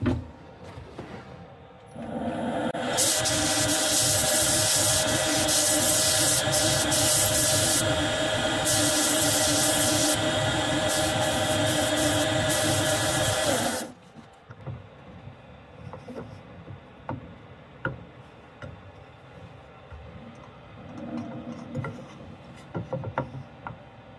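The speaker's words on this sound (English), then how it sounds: "I'll just sand that." A wooden tray gets sanded with a power sander, a loud continuous whirring grind lasting about eleven seconds before it cuts off, followed by lighter scattered scraping and handling knocks.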